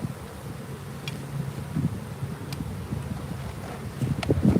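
Honeybees buzzing around a hive being set up outdoors on a cold, windy day, a steady low hum with scattered close fly-bys over wind rumble.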